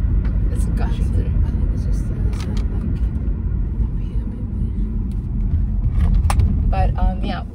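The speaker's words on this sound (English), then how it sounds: "Can you hear the wind? It's gushing through." Wind gushes through an open car door as a loud, steady, low rumbling roar. It fills the whole stretch, with a few faint higher clicks and voices mixed in.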